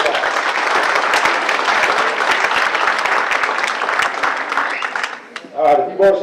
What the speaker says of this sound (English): Yeah, good round of applause.